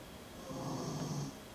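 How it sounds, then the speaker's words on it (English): A sleeping man lets out a single soft, drawn-out snore, faint and close, rising in the middle of an otherwise quiet moment. "So if you hear him snoring"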